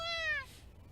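A single short meow from a small black kitten in the video game You and Me and Her, close and clear against a quiet background, with no talking.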